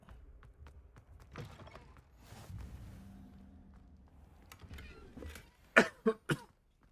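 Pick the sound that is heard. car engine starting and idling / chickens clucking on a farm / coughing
coughing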